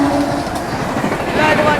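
An Amrit Bharat Express train runs on the rails at close range as a loud, steady rumbling roar, with a voice speaking over it.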